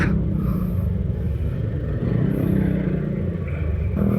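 Road traffic passing during a solo motorcycle ride on Holy Thursday, a continuous low engine rumble and wind noise with occasional louder vehicle passes, close and steady throughout.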